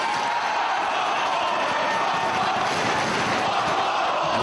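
Wrestling arena crowd at an NWA World's Championship match, roaring and cheering steadily for Brent Albright, a dense, loud, continuous wash of voices and yells throughout.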